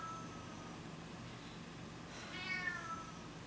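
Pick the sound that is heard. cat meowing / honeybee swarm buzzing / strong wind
cat meowing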